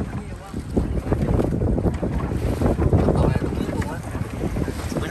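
Fishing boat running on a windy, wave-tossed sea, its engine rumble mixed with heavy wind buffeting and splashing water, loud and constant throughout.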